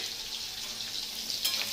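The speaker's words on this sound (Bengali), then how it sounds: "আলুগুলো ভাজা হয়ে" Potatoes frying in a pan give a steady, close sizzling hiss that carries evenly throughout, with a slightly louder crackling burst near the end.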